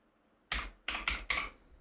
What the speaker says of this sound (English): We have to type in network properties.